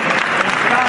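A brief, loud wash of applause from an Italian audience fills the whole moment, dense and continuous.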